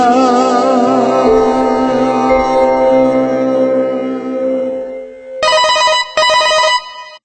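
Telephone bell ringing in a Malayalam radio drama, loud and sustained for several seconds, then breaking into two short bursts of ringing before cutting off, with no voices over it.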